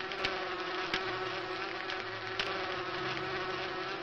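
Buzzing bees from a honey tree in the game Inherit the Earth: Quest for the Orb, a sustained low drone with wavering pitch and a few sharp ticks, faint and steady over the whole stretch with no talking.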